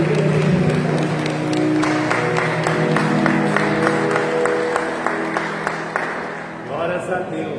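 A church congregation at a Sunday service claps together in a dense patter over sustained music and voices, and the applause fades out toward the end.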